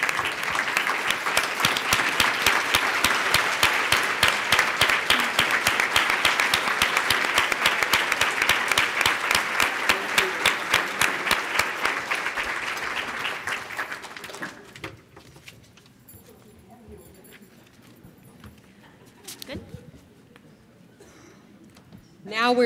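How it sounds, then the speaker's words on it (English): A large audience at an awards event claps loudly and steadily for many seconds, then the applause fades out into quiet room sounds and a voice speaking near the end. "Would you all please rise and give yourselves a big round of applause"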